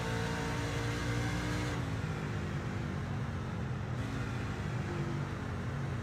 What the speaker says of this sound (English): You hear him downshift into third as he makes his way through the corner.